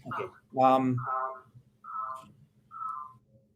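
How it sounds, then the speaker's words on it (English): A loud puppy indoors lets out a few short yips and high whimpering cries in separate bursts with pauses between them, close to the microphone. "The puppy is loud."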